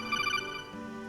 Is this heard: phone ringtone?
yes